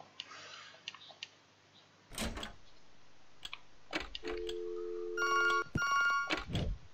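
A telephone rings in The Mirror Lied game, a few short electronic bursts arriving after scattered clicks and thumps, with a held tone beforehand, moderately loud within a quiet room ambience.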